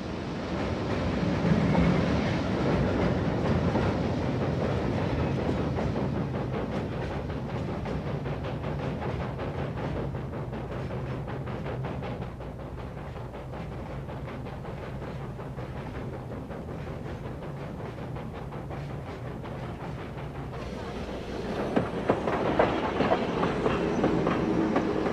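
A train rolls along the rails with a steady rumbling roar and rhythmic clattering of wheels, growing a bit louder and rattlier near the end.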